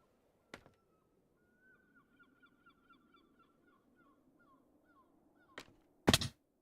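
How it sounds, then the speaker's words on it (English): A distant shoreline bird calls in a Minecraft-style video game, a faint series of short, regular honking notes at a steady rhythm, set between a few sharp louder clicks and a burst of noise near the end. "I'll be like that distant shoreline bird I could hear right now going, wah, wah, wah, wah"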